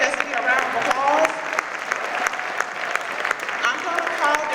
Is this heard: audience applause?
yes